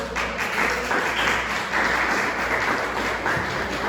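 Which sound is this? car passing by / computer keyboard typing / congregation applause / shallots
congregation applause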